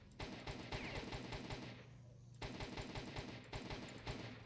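Automatic rifle fire in S.T.A.L.K.E.R. Shadow of Chernobyl, rapid close bursts emptying a magazine, broken by a short pause before the rattling resumes at full volume.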